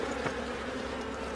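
A few bees humming inside a beehive box, a brief close, steady buzz with no voices.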